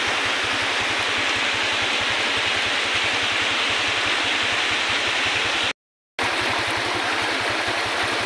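Rushing floodwater pouring down from a mountain after heavy rain, a loud, steady broadband roar with a low rhythmic churn, unbroken apart from a brief cut-out near the end.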